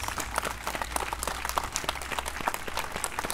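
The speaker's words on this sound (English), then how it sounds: "Give him a big round of applause." Audience applause at a public gathering honoring a son, steady dense clapping from a crowd held at an even level throughout, no voices on top.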